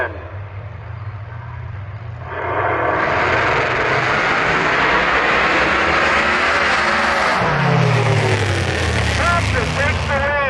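Drag racing cars launch and accelerate down the strip at Milan Dragway, with a sudden loud engine roar rising after a quieter start and holding strong while a commentator talks over it.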